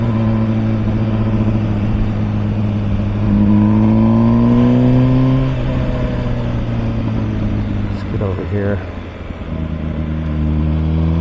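An MV Agusta Brutale 1000 RS naked motorcycle engine under way, its steady tones climbing and falling as the rider rolls the throttle, with a brief shift or stutter near the end before it settles back into a smooth, close drone.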